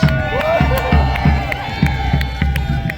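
Outdoor crowd at a castle history festival cheers loudly for a costumed Tudor musician, bursts of shouting and whoops with rhythmic thumping beats and sustained tones beneath.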